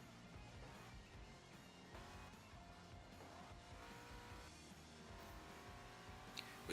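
Race cars duel in Forza Motorsport 7, a Hoonigan Nova against a Ford Falcon, with engines whining and shifting pitch and tires squealing through corners, steady and loud with no talk.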